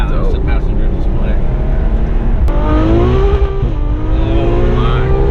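A Ferrari F12 V12 engine revving hard with the valves still closed, loud and close, its rising pitch sweeping upward and holding as people talk excitedly over it.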